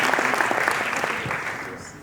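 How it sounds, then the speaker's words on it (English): Audience applause at a business talk rising in a dense wash of clapping, then slowly thinning out over two seconds; a faint voice is audible beneath it. "Let's give her a round of applause"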